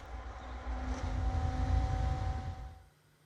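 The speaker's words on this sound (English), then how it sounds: "Cavitation starts to occur and filter pressure drops." A pool pump running and cavitating after the suction-side valve is closed, giving a steady rumbling drone with a faint tonal whine that fades out abruptly near the end.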